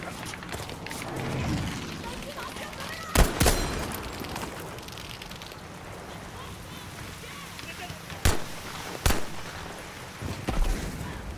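M1 Garand rifle and pistol shots in the video game Battlefield 5, a few sharp isolated cracks scattered over busy in-game noise and movement, with a player talking throughout.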